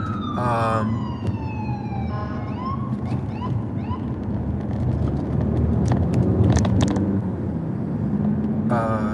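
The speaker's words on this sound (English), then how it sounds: "there was an ambulance" Siren of an ambulance passing along a Massachusetts road, its rising and falling wail heard from inside a moving car over steady road and engine noise, sweeping through and then fading.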